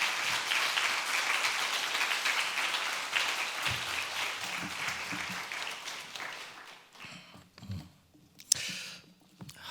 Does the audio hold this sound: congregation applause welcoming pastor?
yes